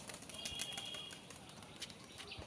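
Tippler and other pigeons released by hand flap their wings as they take off, a quick, faint flurry of fluttering wingbeats against a soft outdoor background.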